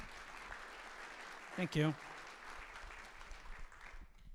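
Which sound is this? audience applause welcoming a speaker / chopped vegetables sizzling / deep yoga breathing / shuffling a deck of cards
audience applause welcoming a speaker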